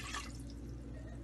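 Water being poured into a pot, 1.5 cups for a rose falooda recipe; a faint, steady liquid splash that is strongest at the start and then fades under a low background hum.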